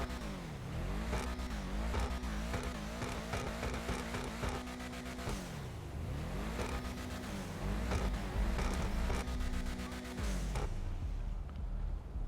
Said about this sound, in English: let's go ahead and rev it up here and do that sound test